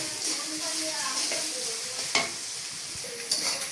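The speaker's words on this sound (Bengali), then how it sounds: "দিয়ে এবার এগুলো আমি ভেজে নেব" Onions frying in a little mustard oil for a homestyle chicken curry, giving a close, steady sizzle. Occasional stirring scrapes and knocks of a spoon against the pan come through.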